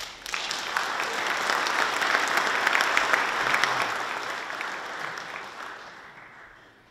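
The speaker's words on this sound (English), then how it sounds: "please give them a round of applause" Audience at a veterans' membership seminar claps together in a dense, steady round of applause lasting several seconds, then thinning and fading out near the end.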